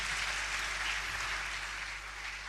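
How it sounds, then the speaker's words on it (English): Seminar audience in Ghana applauding, a steady, dense wash of clapping that stays fairly even across the moment, with a constant low electrical hum underneath. "Another round of applause for"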